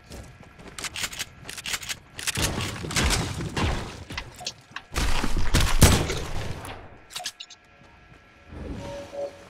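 Rockets firing and exploding in Fortnite: a string of loud, sharp blasts and booming detonations in irregular bursts with brief quiet gaps between them, close by, no talking.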